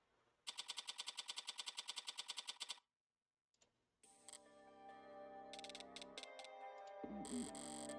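Rapid automatic gunfire from a video game, a fast even burst of about twenty crisp shots lasting over two seconds, then silence followed by mechanical clicks, rustling and a rising loud rumble, with no talk.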